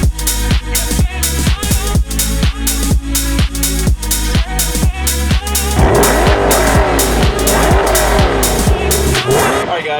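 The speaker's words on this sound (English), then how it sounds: "Let's get in the car and let's rev it out and let's go see this island." A 2021 C8 Corvette convertible with its mid-engine revving hard in rapid repeated bursts, then pulling away with a sustained rising engine roar, loud and close, with a brief voice partway through.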